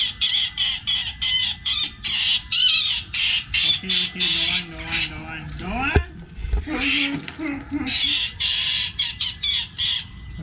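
Injured Oriental dollarbird squawking angrily in repeated harsh bursts, loud and close, with people talking between calls and a brief water spray near the middle.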